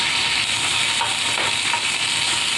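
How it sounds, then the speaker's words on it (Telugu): Whole spices tempering in hot oil in a frying pan for an okra fry with garlic, giving a steady, loud, dense sizzle that runs unbroken throughout with no voices. "ఫస్ట్ ప్యాన్ పెట్టుకొని పోపు దినుసులు వేసుకున్నాము"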